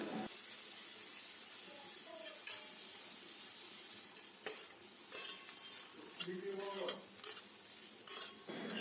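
Chopped tomato goes into a pan of frying carrots and beans, giving a soft, continuous sizzle with scattered utensil clinks and scrapes as the vegetables are stirred.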